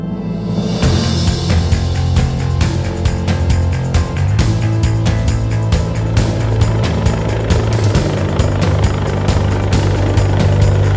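Sikorsky helicopter heard at an offshore oil rig landing, a loud, steady rotor thump and turbine whine running continuously throughout with a strong low beat and no talk.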